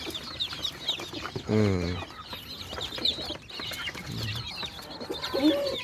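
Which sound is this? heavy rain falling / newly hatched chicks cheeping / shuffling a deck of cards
newly hatched chicks cheeping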